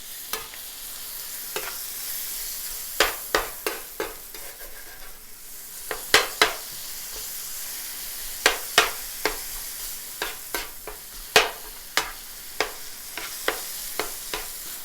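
Cheesesteak beef and onions frying in a pan with Worcestershire sauce, a steady loud sizzle broken by repeated sharp scrapes and taps of a spatula stirring and flipping, with no talk.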